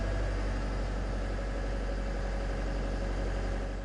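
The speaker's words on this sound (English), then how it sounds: "Let the engine warm up before operating." A boom lift's diesel engine idles while warming up, a steady, loud, low rumble with an even drone that holds unchanged throughout.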